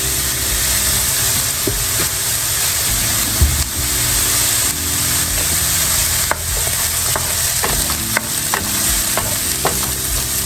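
Mushrooms fry in oil in a pot for white lasagna soup, a loud, continuous sizzle close up, broken by frequent clicks and scrapes of stirring against the pan.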